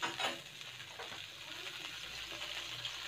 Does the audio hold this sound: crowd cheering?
no